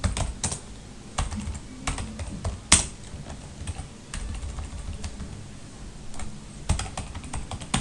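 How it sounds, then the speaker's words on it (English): A password is typed on a computer keyboard as a close, continuous run of quick key clicks with a few louder taps, and no one speaks. "Let me type a password."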